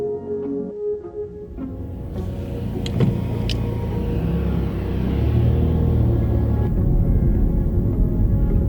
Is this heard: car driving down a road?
yes